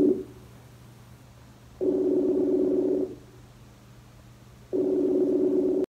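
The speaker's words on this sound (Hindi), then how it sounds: "कॉल जा रही है भाई को" An outgoing phone call rings back with steady tones of about a second each, separated by longer pauses, loud and close with no voices.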